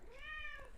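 A house cat gives a single drawn-out meow with a rising then falling tone, heard close but fairly soft indoors, with no talking over it.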